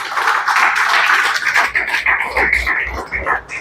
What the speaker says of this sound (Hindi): एक बार दिलदार जोरदार तालियां बजाएं।